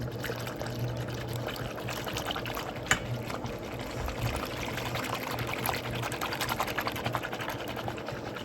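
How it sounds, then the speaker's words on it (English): Water bubbling and churning at a rolling boil in a pot, a dense continuous gurgle with no one speaking. "our water is boiling, doing pretty good."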